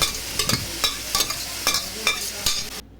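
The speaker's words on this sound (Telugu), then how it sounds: "కర్రీ వేసుకుని 1 నిమిషం తిప్పుకోవాలండి." Cooked bottle gourd curry tossed into a frying tempering and stirred, a bright continuous sizzle punctuated by about seven sharp spatula scrapes against the pan, close and loud, ending abruptly.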